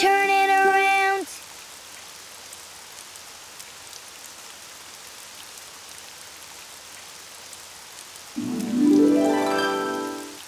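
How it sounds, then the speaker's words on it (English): Rain falling in a Daniel Tiger's Neighborhood children's video game, a soft steady patter running under brief bursts of game music at the start and end. "Oh, it's raining outside."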